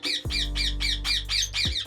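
A ring-necked parakeet breeder pair squawks in a quick series of about seven sharp, shrill calls, close and loud, with a low hum underneath.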